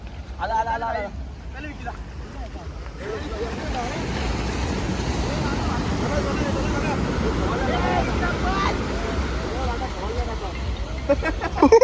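Steady high-tide surf washing in along a beach in Goa at night, mixed with gusty wind buffeting the microphone, with a few faint voices near the start and end.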